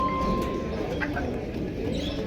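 Soft, low cooing of pigeons close by, a continuous murmuring coo with a faint voice in the background.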